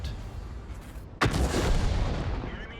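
A loud, sudden boom of an M44 self-propelled artillery piece firing in World of Tanks. A single sharp blast rises out of low rumbling ambience, then its rolling echo holds and slowly fades over the following seconds.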